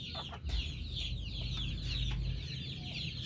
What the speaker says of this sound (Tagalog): At ayan na po siya ngayon ng ating matikas na bagong rooster dito sa ating